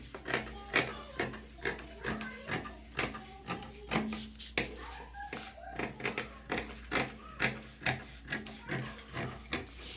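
Scissors cut through fabric for a camisole in a steady series of crisp snipping and rasping strokes, close and fairly quiet, repeating roughly every half second with no talking.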